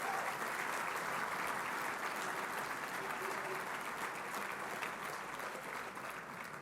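Sustained applause from a dinner crowd at a fundraising event, greeting a professional chorus after its rendition of America the Beautiful; a broad, even roar of many hands clapping that continues steadily throughout with slight tapering.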